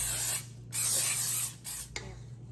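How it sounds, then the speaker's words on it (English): Extra virgin olive oil cooking spray hisses from a can in three bursts, two long and one short, close and fairly loud while coating the inside of a pan for stromboli. "I just use extra virgin olive oil spray, making sure I coat all the sides"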